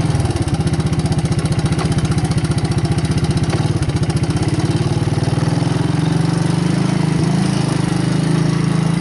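A 1985 Honda ATC 200S ATV engine idles steadily and loudly up close, with a rough, rapid low-pitched putter that continues throughout without pause.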